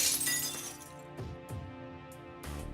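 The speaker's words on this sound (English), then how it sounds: "A shattering sound. The window breaks" Window glass shatters in the Fate/Stay Night video game: a bright crash at the start, then scattered tinkling impacts as shards fall, set against a quiet sustained musical tone.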